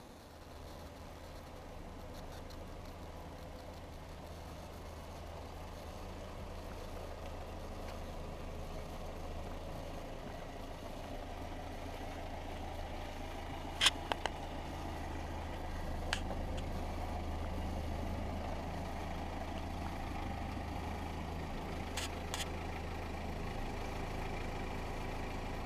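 A truck engine idles at a steady low rumble throughout a driving demonstration, close and even, with a few brief sharp clicks partway through and no talk.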